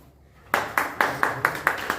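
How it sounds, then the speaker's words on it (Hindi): Audience at a village panchayat oath-taking ceremony welcoming a member with handclaps: after a short quiet moment, a run of loud, evenly spaced claps rings out at a steady rhythm, close and unaccompanied by talk. "तालियों से इनका स्वागत करें"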